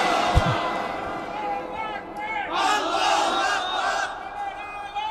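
A crowd of listeners at a Bengali Islamic sermon gathering roars back in loud, sustained unison, a swelling mass of voices that rises and holds for several seconds.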